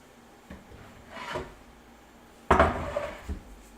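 A knife cuts fresh pasta dough into spaghetti strands, giving a few scraping, thudding cuts against a board, one soft and one louder, close up with no talking.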